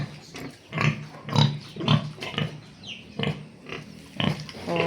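Pigs grunting on a smallholder's farm, with a series of close, loud grunts and snorts repeating in an uneven rhythm for several seconds.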